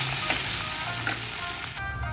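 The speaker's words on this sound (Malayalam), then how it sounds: "ഇത് നന്നായിട്ട് ഒന്ന് വഴറ്റി ഇതിൻ്റെ ഒരു എണ്ണയൊക്കെ ഒന്ന് തെളിഞ്ഞ് വരുന്നവരെ ഒന്ന് വഴറ്റി കൊടുക്കാം." Ground paste sautéing in hot oil for kadala curry, a dense continuous sizzle close up with soft stirring scrapes running through it.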